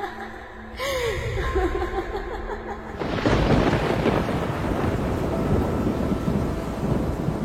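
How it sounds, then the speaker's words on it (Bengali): Thunderstorm effect for a Bengali ghost story set by a cremation ground: a faint laughing, gasping voice over low rumble gives way to a sudden loud crack and roar of thunder with heavy rain that continues to the end. "বাইরের ঝড় যেন হঠাৎ আরো বেড়ে গেল"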